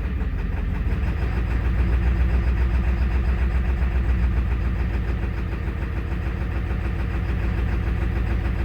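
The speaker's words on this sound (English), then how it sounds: "Trying to get it to idle, feathering it with my foot" A 2001 Ford F250 7.3L turbo diesel with about 304,000 miles runs just above idle, its steady low rumble swelling slightly as the throttle is feathered, close and continuous with no talking.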